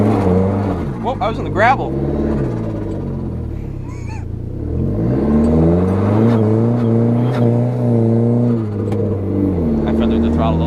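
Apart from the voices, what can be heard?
loud turbocharged 4-cylinder PT Cruiser GT engine revving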